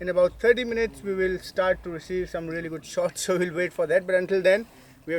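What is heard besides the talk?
None of the usual background noises is heard.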